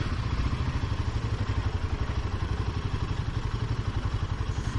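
A Royal Enfield Himalayan 450 motorcycle engine chugs with a rapid, even pulsing beat while riding off-road, moderately loud and steady with no talking.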